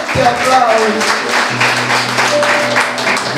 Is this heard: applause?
yes